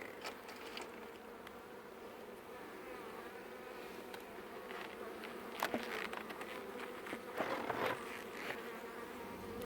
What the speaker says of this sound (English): Could just be some bees coming in to rob